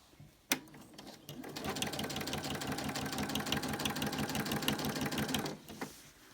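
A sewing machine stitching quilt binding at a medium stitch length, a rapid steady whirring chatter that starts after a click, runs for several seconds, then stops.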